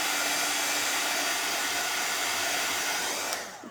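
A dryer blows on freshly painted white craft pieces for a Santa gnome, a loud, steady, broadband rush of air that tapers off at the end.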